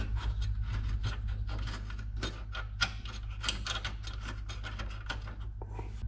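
A ratchet snugs bolts on the radiator support of a Jeep Liberty, a run of quick rapid clicking bursts close by over a low steady drone.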